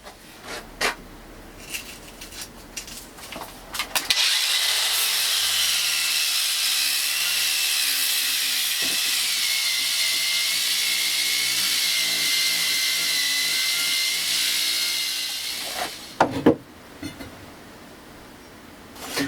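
A polisher with a 1500 grit pad runs steadily on a granite edge for about twelve seconds, a loud sustained whir with grinding texture, framed by scattered handling knocks before and after.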